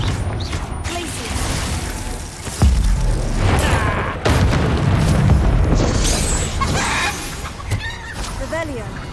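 Spell effects from the Hogwarts Legacy video game, a fiery Confringo blast and an icy Glacius cast, erupting as loud booming bursts and crackling impacts amid busy game sound and music, with a voice talking over parts.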